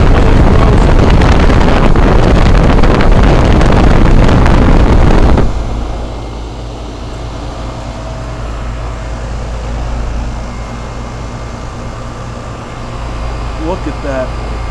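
A 2004 Goodman 10 SEER heat pump in defrost mode, starting with a loud rushing, roaring hiss for several seconds that cuts off abruptly into a quieter, steady mechanical hum with faint background noise.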